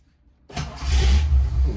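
A Ford Mustang Fox Body engine cranks and catches after a moment of near silence, then settles into a loud, close, steady running rumble.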